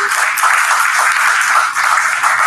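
Applause from the audience at a film festival talk closes the session: dense, loud, steady clapping that fills the whole moment without a break.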